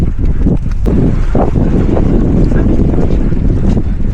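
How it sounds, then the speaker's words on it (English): Strong coastal wind in Margate, Kent, roars and buffets continuously around an outdoor pool with some spray in the air, a loud, constant rushing blast across the whole stretch with no talking. "It's still very windy and there's a bit of spray in the air"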